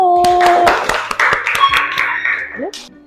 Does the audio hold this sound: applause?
yes